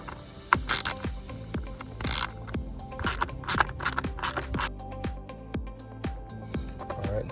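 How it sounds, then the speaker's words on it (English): A T27 Torx driver turning out a screw on a 2013 Ford Escape, giving a run of sharp, closely spaced ratcheting clicks and small metallic knocks, near and fairly loud, with no talking. "So to remove this, you're gonna need a T27 to remove it."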